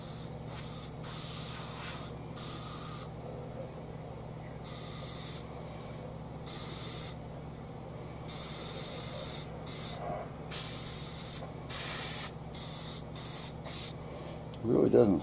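A mini sandblaster sprays in repeated short bursts of sharp, airy hiss, stopping and starting at an irregular pace, with a steady low hum running underneath and a clunk at the end.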